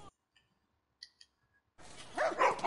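Dogs bark in The Last of Us video game, with a few faint distant sounds early on before a louder burst of barking near the end.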